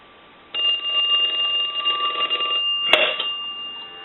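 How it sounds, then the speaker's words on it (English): A vintage French-style metal telephone bell rings steadily in a loud sustained metallic trill with a brief clunk near the end, heard alone. "we want to go ahead and plug this telephone in, and we want to go ahead and ring it"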